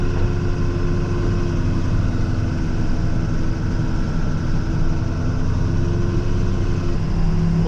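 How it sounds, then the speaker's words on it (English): A truck runs steadily during a snowstorm with its salt spreader switched on, a constant low engine drone and rumble that holds at an even level with no breaks. "So throw the salt spreader on."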